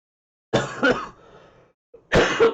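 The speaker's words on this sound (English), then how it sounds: "this cough is still here" Two harsh cough bursts from a person, with a short wheezy breath trailing the first, then another double cough near the end, close and alone.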